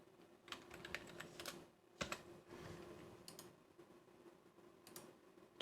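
Quick typing on a computer keyboard, clusters of crisp key taps in short bursts with a sharper clack near the two-second mark, close by and faint, no talking over it.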